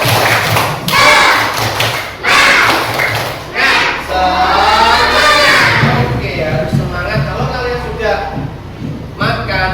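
Schoolchildren in a classroom doing a rhythmic spirit clap, loud patterned claps and thumps mixed with their chanting and shouting voices, close and energetic.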